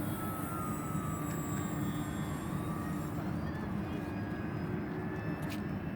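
An E-flite T-28B Trojan 1.2m electric RC model airplane on its maiden flight whines overhead with a gliding, pitch-shifting motor tone over steady outdoor background noise, moderately distant, with faint voices nearby.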